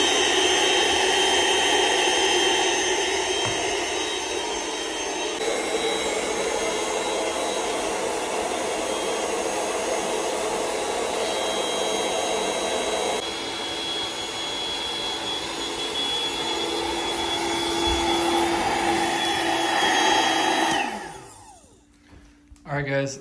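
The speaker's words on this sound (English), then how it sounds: "We'll go ahead and fire it up and show you just how long it takes to inflate." The built-in electric pump of an Intex Dura-Beam twin-size air mattress roars in a loud, steady whir as it inflates the bed, holding a constant drone for about twenty seconds before cutting off abruptly.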